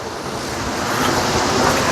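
A loud, continuous rush of falling water fills the air at Hunua Falls near Auckland, New Zealand, steady and close, with no voices.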